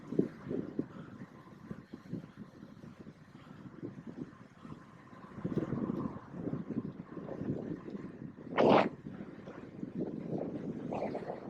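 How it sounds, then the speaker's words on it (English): Gusting crosswind buffets a cyclist's microphone on an urban ride, a steady low rumble of wind noise with a brief louder gust burst partway through. "Oh, that crosswind. Oh, that's rough."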